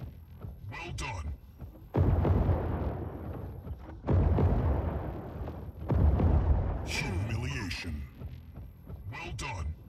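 Heavy explosions and weapon impacts in the Mech Arena mech combat game, several loud booming bursts arriving in bunches, separated by quieter stretches that carry short announcer-style voice callouts.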